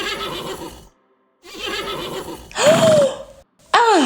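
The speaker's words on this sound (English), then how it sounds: "A horse." A horse behind a barn neighs and whinnies several times in close, loud bursts, with short gaps of silence between the calls and the last two whinnies rising sharply.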